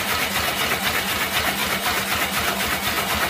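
A patented magnet motor with electronic timing turning at 10 RPM, giving a steady, even mechanical hum and whir with a faint rhythmic pulse, continuous and fairly close throughout, with no talking.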